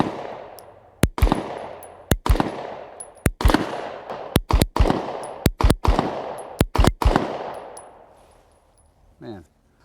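Rost Martin RM1S compact pistol fired at a target, a series of about a dozen sharp, loud shots in uneven pairs and singles with short ringing decay, followed by quiet near the end.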